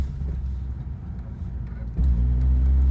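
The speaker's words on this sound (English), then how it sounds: "gear pull, full throttle." Lexus SC300 under a full-throttle third-gear pull, a steady low engine drone that swells louder partway through as the boost builds, heard from inside the car.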